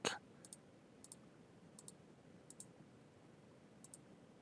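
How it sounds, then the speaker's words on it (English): A computer mouse clicking, small crisp double clicks repeated at roughly even intervals about five times, quiet and close over faint room hiss, no speech. "We just click, click, click as many times as you want."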